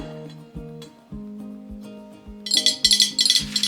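Glass bottles clink and tap against one another as they are handled for cleaning before an etching craft, with a run of sharp ringing knocks that grow busier and brighter toward the end.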